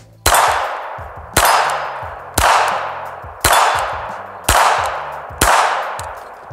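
Six evenly spaced loud pistol shots from a double-stack Makarov, each a sharp crack with a ringing decay, fired about once a second close to the microphone.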